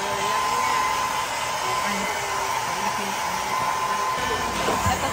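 A hair dryer blows steadily at close range, a continuous loud whooshing hum that holds without pause.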